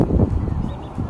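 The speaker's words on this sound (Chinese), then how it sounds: "这边还有好多鸭子" Ducks at Nam Sang Wai wetland giving a brief honking, nasal call, close and fairly loud over a low rumbling background, lasting about a second.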